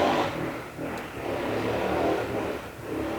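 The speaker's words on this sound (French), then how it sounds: "Je laisse la moto passer," Motorcycle passing by outdoors, a mid-level engine drone that rises and swells as it nears, then holds and fades slightly, heard at moderate distance.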